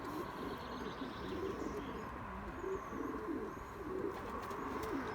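Racing pigeons cooing in a loft as a yellow pied male shows off to a yellow mealy hen, with repeated soft, throaty coos and faint chirps close by against a low background hum.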